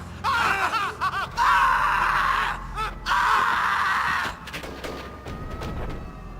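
Screaming and shrill cries from characters in a Final Fantasy X-2 video game cutscene, coming in loud bursts over the first four seconds, then dropping to quieter voices and movement.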